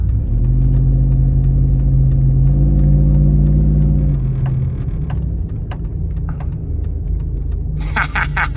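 A lifted Hummer H2 on a 12-inch lift and 46-inch Mickey Thompson tires backs out of a shop, its engine a loud, close, steady rumble that swells briefly, then settles to a lower idle, with a few sharp clicks near the end.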